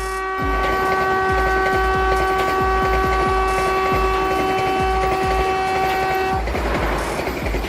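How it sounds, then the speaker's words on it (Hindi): A Vande Bharat Express train runs past with a long, loud, steady horn blast over rhythmic wheel clatter. The horn stops near the end and rushing track noise continues. "वंदे भारत एक्सप्रेस वर्तमान में भारत की सबसे तेज यात्री ट्रेन है"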